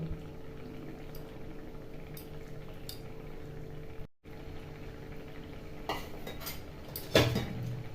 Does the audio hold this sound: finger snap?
no